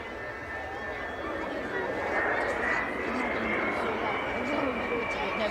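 A delta-wing aircraft flies past at the Dunsfold 2014 air show with its wheels down, a loud continuous engine roar heard from the crowd line that holds steady and swells slightly through the pass.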